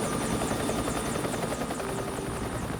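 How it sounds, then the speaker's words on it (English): Helicopter rotors thump steadily and loudly in a continuous rapid beat with a droning engine whine, heading out over the Florida Everglades toward the site of a crashed airliner-size jet. "Need to get your choppers in the air."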